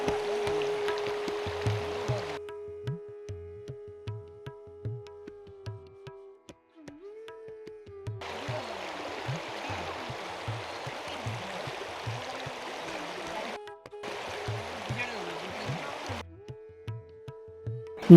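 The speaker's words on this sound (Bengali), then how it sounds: "মূর্তি নদীর ধারা কয়েকটা ভাগে বিভক্ত হয়ে রয়েছে, আর এটা হলো ধারের দিকে অপেক্ষাকৃত অপ্রশস্ত একটা ধারা।" The Murti river stream rushes over stones in a steady broadband wash that comes and goes in long stretches, with a sustained low tone and faint rhythmic thumps underneath.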